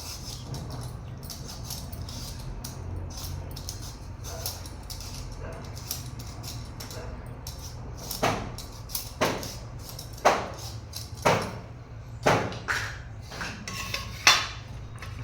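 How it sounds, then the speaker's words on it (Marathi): Raw potato being peeled and grated by hand, a run of soft scraping with sharp grating strokes that grow louder and come at roughly one per second toward the end. "बटाट्याची साल काढून कच्चा बटाटा किसून घेणार आहे मी"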